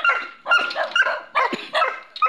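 Several dogs barking in repeated bursts, loud and close, with yips and whimpers mixed among the barks and short pauses between volleys.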